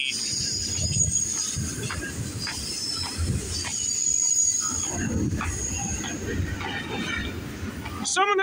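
A CN freight train rolls through Brantford VIA station, its wheels grinding and rumbling continuously up close with high steel squeals over the top and rhythmic clanks, ending in a sharp screech.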